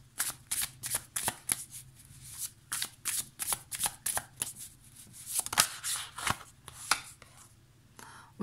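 Muse Tarot deck being shuffled by hand, a run of crisp, close riffling and slapping card bursts in an uneven rhythm, with no speech.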